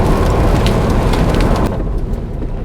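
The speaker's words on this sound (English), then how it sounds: "So it's actually hailing out there now." Hail clatters loudly and steadily outside a garage where a Vauxhall VX220 is being serviced, a dense continuous patter of ice striking surfaces that eases slightly toward the end.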